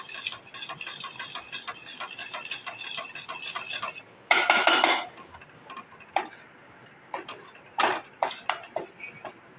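Maida roasting in a pan over a low flame, with a spoon scraping and clinking against the metal in quick repeated strokes, including a louder burst of scraping partway through, heard close up.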